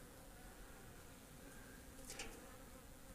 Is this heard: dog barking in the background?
no